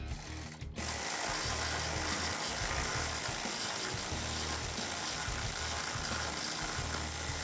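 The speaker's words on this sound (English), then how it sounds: "we can tighten everything up using an 18 millimeter wrench and a 19 millimeter socket for the frame bolt" A ratchet wrench and socket tighten front bumper bolts on a 2016-2021 Toyota Tacoma, a continuous close, busy clatter of rapid clicks running for about seven seconds after a short quieter opening.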